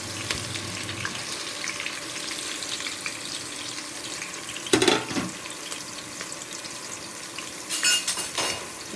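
Sliced onions for prawn biryani fry in a pan with a steady, even sizzle, broken by a couple of brief stirring scrapes and clinks against the pan.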